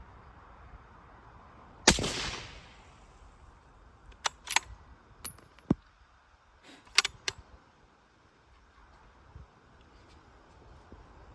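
Supersonic rifle rounds fired outdoors, with one sharp, loud report followed by a decaying echo, then several fainter cracks and clicks spread over the following seconds.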